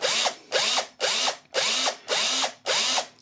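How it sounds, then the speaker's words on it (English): Power drill boring a small hole in metal at a controlled high speed, six short bursts of whirring with pauses between, close and loud, no talking. "we're just going to start the drill going now"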